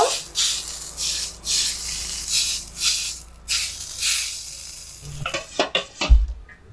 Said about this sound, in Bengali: একটু অল্প করে তেল মাখিয়ে নিয়ে গরম করে নেব